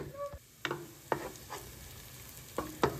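Epazote leaves fry in a pan with a steady soft sizzle, broken by a few sharp utensil scrapes and taps as they are stirred; quiet and close, with no voices.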